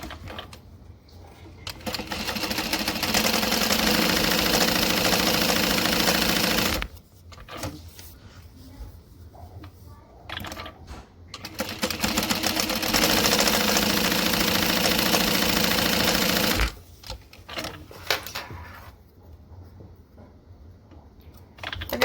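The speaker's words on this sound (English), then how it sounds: "We'll top stitch down and back." A sewing machine runs in two long steady bursts of rapid mechanical stitching while top stitching a bag, separated by quieter pauses with small handling clicks.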